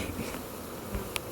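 Honey bees buzzing inside a hive during a package bee installation, a steady close droning hum with a few brief louder passes from individual bees.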